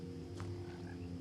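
In the silent woods near the house in What Remains of Edith Finch, a frog gives low, continuous croaking, faint and droning, with a brief brighter chirp over it.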